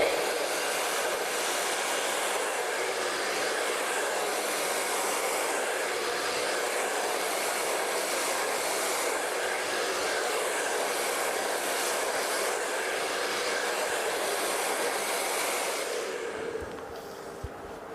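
A hair dryer blows steadily on long hair for a hairstyle, a loud, continuous whooshing roar that holds nearly unchanged throughout, then drops off abruptly near the end.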